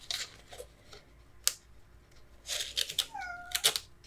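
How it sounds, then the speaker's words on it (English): Pet cat meowing close by, a short meow near the end amid soft rustling and crinkling of craft paper and tape. "Oops, there's my kitty."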